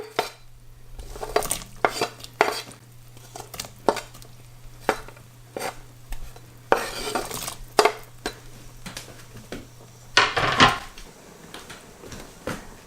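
Frozen corn and sliced chili tipped into a cooking pot for sayur asam, a run of close, sharp clatters and knocks against the pot with a short louder rattling burst near the end, over a steady low hum.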